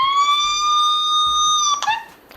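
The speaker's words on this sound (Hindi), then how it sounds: "काफ़ी ज़्यादा लाउड है यहाँ पे पुलिस का सायरन" A loud electronic police siren from a boAt Ultima Ember 2 smartwatch speaker wails in a steady high tone, then breaks into a quick warbling yelp before cutting off, thin and speaker-like.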